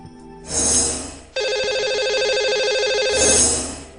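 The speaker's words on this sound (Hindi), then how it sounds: "तो लगाते हैं इन्हें कॉल और करते हैं इनसे बात।" A telephone ringing on an outgoing call to a radio show caller, two loud electronic ring bursts with a steady buzzing tone between them, close and clear.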